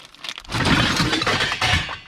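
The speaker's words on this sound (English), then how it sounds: "It's a weird glass thing that'll probably break here shortly." An odd glass object among pots and lids from an abandoned storage unit breaks and clatters in a loud, close burst of crunching and crashing lasting about two seconds.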